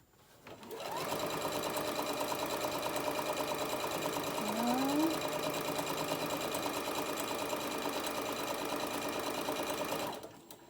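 A sewing machine stitches a tote bag in a continuous loud mechanical whir that starts about a second in and runs steadily for nearly ten seconds before stopping, with no talking over it.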